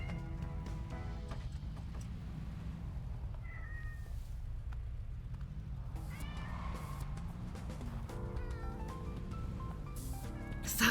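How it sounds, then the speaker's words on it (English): A cat meows in Yakuza: Like a Dragon, a couple of short mid-pitched calls rising over a steady bed of game music and ambient town noise, with no talk. "Is that fucking cat the one from the train?"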